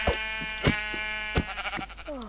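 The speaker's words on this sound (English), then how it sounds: "Why is there a pink sheep?" A pink sheep in the Minecraft video game bleats several times in quick succession, loud and close, with high nasal calls and a few softer thumps between them.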